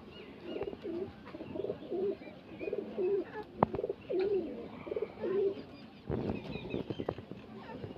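A male pigeon of the Jan Sahib breed coos in repeated low, throaty phrases close by, with quiet background noise and a few soft knocks between the calls.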